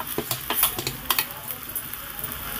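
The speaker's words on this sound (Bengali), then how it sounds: "দেখুন ভেন্ডিটা দিয়ে ভালো করে আমি একটু নেড়ে চেড়ে দিচ্ছি।" Fried okra being stirred into a prawn curry in a pan, a steady wet sizzle with quick clinks and scrapes of a spoon against the metal, close and continuous with no talk.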